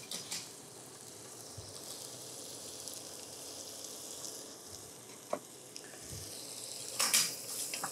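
Soft, steady sizzling of onions frying in a pan, with a few clinks and stirring scrapes, fairly quiet throughout.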